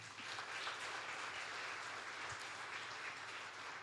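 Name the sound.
congregation applause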